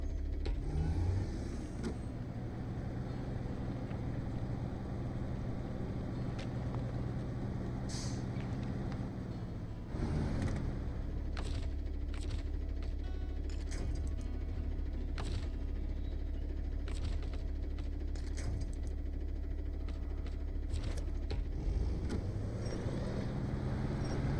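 A heavy truck engine in SnowRunner drones and strains up a steep hill in the Flooded Foothills, a loud continuous low rumble whose pitch shifts as it labours, with occasional sharp clanks.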